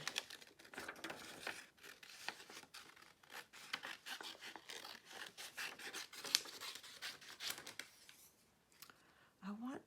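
Scissors fussy-cutting around a figure in a scrap of vintage wallpaper, producing faint, close, irregular little snips and paper rustles that continue steadily throughout.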